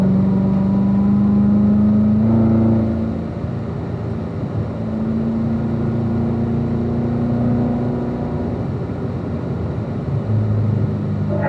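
A car accelerates on a driving course, a loud near engine drone that rises in pitch and holds steady with shifting tones, no talk.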